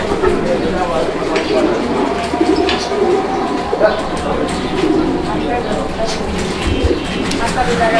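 Pigeons in a loft coo in soft, repeated low bursts, close by, while someone talks over them.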